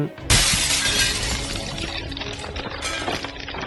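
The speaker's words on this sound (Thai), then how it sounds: "เดลสาก็ได้ยินเสียงอย่างชัดเจนว่าคุกในชั้นบรรยากาศนั้นได้ถูกทำลายออกมา" A sudden loud crash of shattering glass bursts in, then a glittering cascade of falling shards trails off over a few seconds, used as the sound effect of a prison breaking apart.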